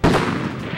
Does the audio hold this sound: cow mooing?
no